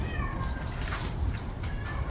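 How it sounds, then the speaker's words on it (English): Inside a heifer barn, a cat meows several times at moderate distance, drawn-out cries rising and falling over a steady low rumble of barn noise. "That's the one that's doing all the meowing."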